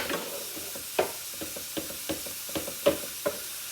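A sausage mixture frying in a pan crackles and pops, with irregular sharp spits over a soft steady sizzle, close by and moderately quiet.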